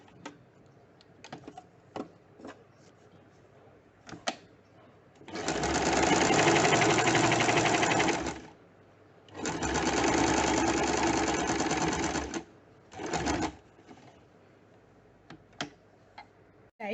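A sewing machine stitches a men's kurta sleeve placket in two sustained runs, each lasting several seconds, with a short burst afterward. Between the runs there are quiet clicks and handling sounds.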